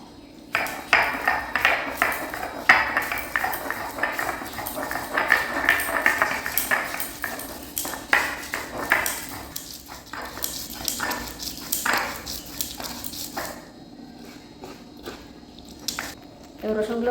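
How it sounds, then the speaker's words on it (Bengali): Ginger is ground on a grinding stone while pulao is being made, producing rhythmic scraping and knocking strokes of stone on stone, with a voice speaking now and then over the steady grinding. "এবার আমি আদা বেটে নেব।"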